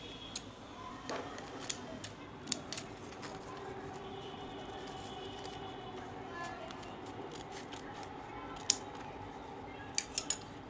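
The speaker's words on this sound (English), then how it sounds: "we are going to take our leftover paper and cut out a small square" Scissors snip a small square from leftover paper for a DIY paper tassel, several sharp, quiet clicks scattered over a faint steady background hum.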